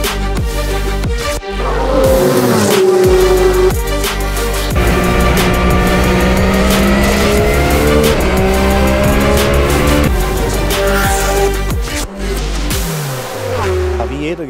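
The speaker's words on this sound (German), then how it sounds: "Also setz dich ins Auto und fahr noch eine Runde." A Porsche 911 GT3 R race car lapping a track, its engine droning loud and steady with rising and falling pitch through gear changes, brief cuts and tire noise, with no talk over it.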